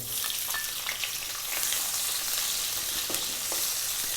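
Loud, continuous sizzling of onion frying in hot oil in a wok over high heat, a dense crackling hiss with no voices, close by.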